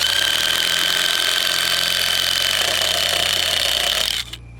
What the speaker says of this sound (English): Now we're screwing them in one by one. First to the outer frame and finally to the main foundation frame.